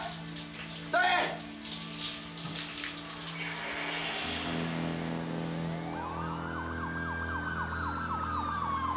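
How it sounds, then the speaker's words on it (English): Wailing emergency vehicle sirens echo across a valley, rising and falling over a steady, loud drone, with one rough burst near the start. "You could hear sirens all over the valley."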